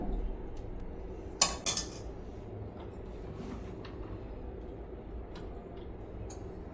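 A plate and spoon are handled indoors, with a sharp cluster of metallic clinks early on, then scattered faint taps and knocks over a low room rumble.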